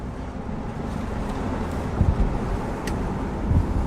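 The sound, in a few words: car engine running after camshaft position sensor replacement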